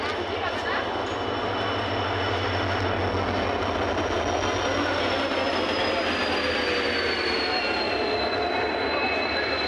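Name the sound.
train passing at a station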